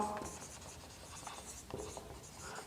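Chalk or marker scratches across a board during a maths lesson on tangents and normals, a series of quiet scraping strokes, with faint intermittent talk nearby.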